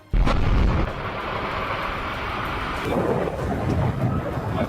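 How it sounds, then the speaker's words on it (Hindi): A sudden deep boom bursts out as an 800-foot chimney is demolished by explosion, then a long rumbling roar of collapse with crackling debris trailing off over several seconds. "800 फीट ऊंची चिमनी को भी धमाका कर चंद सेकंड में जमींदोज कर दिया गया"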